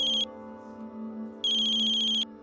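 Telephone ringtone chiming in two bursts, a short one at the start and a longer one after a pause, loud and close, with a steady tone continuing beneath the gap and no talking.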